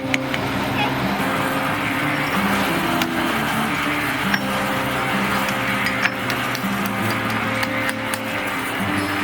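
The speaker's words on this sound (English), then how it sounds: "the mason uses the trowel to clean off excess mortar" A mason's trowel scrapes excess mortar off a brick wall, giving repeated gritty scraping strokes and sharp clinks against brick, up close over steady background construction noise.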